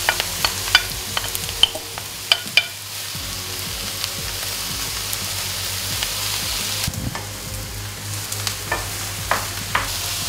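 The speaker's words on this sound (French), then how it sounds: "On va les mettre dans l'huile, dans notre poêle" Diced aubergine cubes fry in hot oil in a pan, giving a steady hiss of sizzling with sharp clicks and taps of a utensil scattered throughout, close and fairly quiet.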